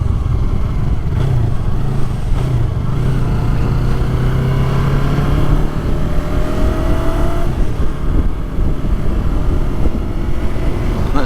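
A matte black 2019 Yamaha YZF R3 motorcycle's engine drones loudly and continuously while riding, its pitch climbing through gears under steady wind rush.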